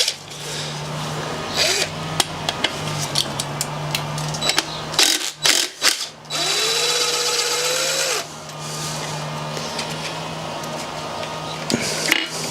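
A power tool undoes a left-handed T45 bolt on a car engine's oil pump sprocket, giving short whirring bursts and a sustained rising whine midway over a steady low hum, with metallic clicks around it.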